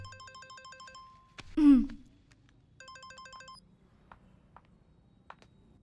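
A phone rings twice in a short electronic pattern, a bright repeating trill in brief bursts separated by a sudden loud noise and quieter clicks, with no talk over it.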